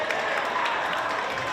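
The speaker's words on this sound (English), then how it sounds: "The crowd is going crazy" A high school basketball crowd at a Westview versus Buena Vista game roars in a steady, loud wash of cheering and clapping that fills the gym without a break.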